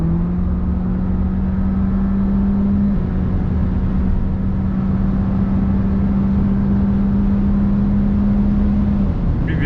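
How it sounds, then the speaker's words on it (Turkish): Audi Q3 engine under full throttle, a steady loud drone with a sustained tone that steps up in pitch partway through, heard continuously from inside the car with no talking. "Dip gaz yaptım şu an."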